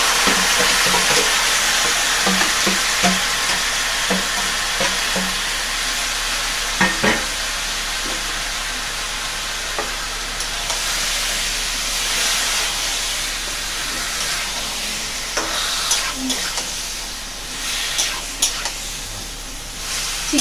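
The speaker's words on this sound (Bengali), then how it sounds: "চিকেনটা দিয়ে ভালো করে কষতে হবে।" Chicken sautéing in a pan with fried onions gives a steady, close sizzle and hiss, broken by occasional scraping and stirring clatters, with no talking.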